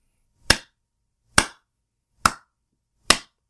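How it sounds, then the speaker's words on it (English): Four single hand claps spaced evenly about a second apart, sharp and close in an otherwise silent room, a deliberate slow clap. "Can I get a slow clap?"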